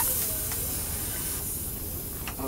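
Liquid nitrogen sprays out of a container under high pressure, a loud continuous broadband hiss that holds steady throughout, close and harsh.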